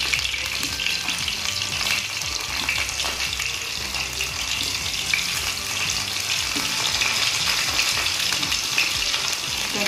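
Royal Golden fillet nuggets from Belfoods, about ten pieces, fry in oil over a low flame, giving a dense, steady sizzle and crackle that stays close and constant throughout with no voices.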